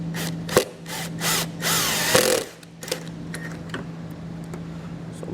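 A power drill whirs in short bursts, then a longer strained run as a self-tapping ground screw is driven into the metal of a 2016 Land Rover, followed by quieter handling clicks.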